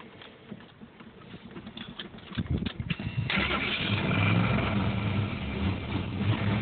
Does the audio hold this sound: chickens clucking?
no